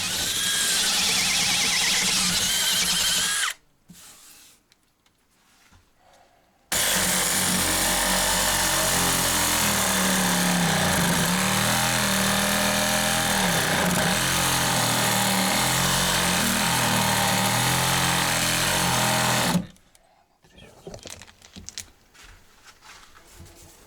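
A power tool bores a hole in wood at a remote work site, grinding loudly in two long bursts that are separated and followed by brief quiet gaps.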